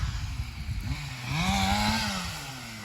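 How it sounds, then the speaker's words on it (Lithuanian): A chainsaw cuts through bushes along a farm field, its engine idling at a distance before revving up into a steady, rising whine, then easing back down. "Tai vis dar pjaunam krūmus."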